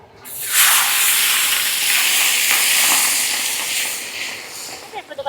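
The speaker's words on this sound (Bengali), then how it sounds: "এবার আমি মাছগুলো এক এক করে ভেজে নেব।" Pieces of rohu fish dropped into hot oil in a kadai burst into a loud, steady sizzle and hiss that holds throughout, with a few faint clatters of utensils near the end.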